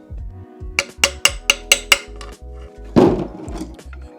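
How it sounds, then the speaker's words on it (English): A hammer drives a punch to seat a new seal in a Honda B-series transmission: about six sharp, evenly spaced metallic strikes, close and crisp, followed by a brief scraping clatter. "I'll go ahead and use this as a like a punch to get the new one in"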